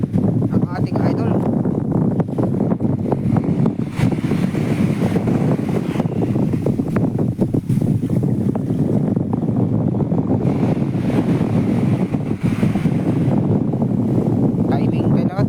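Sea waves slosh and crash steadily against a fishing boat out on open water, a loud continuous churn mixed with wind rush, and someone speaks over it throughout.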